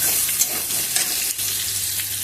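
Diced carrots fry in hot oil in a pan for a wedding-style vegetable dal, with beans and peas alongside. A loud, steady sizzle is broken by a few soft stirring knocks.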